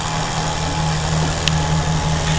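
Tractor engine running steadily at a tractor pulling contest in Hajdúböszörmény, a continuous low mechanical drone with a brief click partway through, loud and close with no talk.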